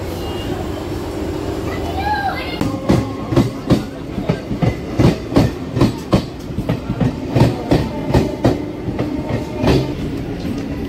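A train runs on rails with a steady clickety-clack of wheels over rail joints, loud and close. The regular rhythmic clacks sit over a constant rumble.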